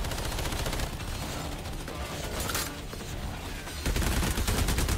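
Sustained automatic gunfire from The Division Resurgence mobile shooter game, dense rapid bursts filling the whole stretch, loud and close with a heavier surge near the end, no talk.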